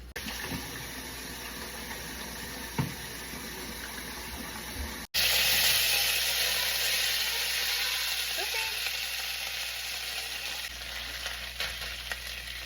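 Rice frying in a hot wok, a steady hiss of sizzling that jumps louder partway through and keeps crackling evenly near the pan, with no talking.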